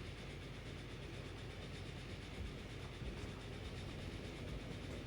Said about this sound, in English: The Flying Scotsman in service.